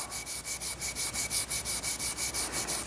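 Automotive conditioning abrasive is rubbed over wood in quick back-and-forth strokes, about sixteen evenly spaced hissing swipes, close and steady with no voices.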